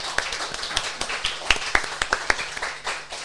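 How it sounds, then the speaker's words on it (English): Scattered, uneven hand claps from a small audience at a live speaking event, a dozen or so sharp claps over a few seconds, fairly close and not building into full applause. "let's give Sarah a massive round of applause as well for her mindset"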